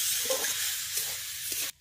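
Soaked sago fries in ghee, giving a continuous close sizzle with soft stirring scrapes for under two seconds before it cuts off.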